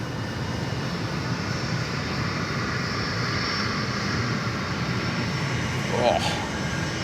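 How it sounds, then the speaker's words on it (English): A Qantas airliner takes off from runway 16 right at Sydney Airport, heard as a steady, broad jet roar that holds at a constant level throughout, with a brief louder swell near the end. "Qantas 403, runway 16 right, clear for takeoff."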